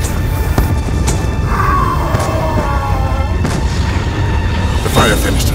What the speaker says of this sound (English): The mortar fire means the MPLA is ready for attack.